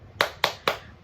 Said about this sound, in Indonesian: Yuk, sebelumnya kita tepuk semangat dulu yuk Bu.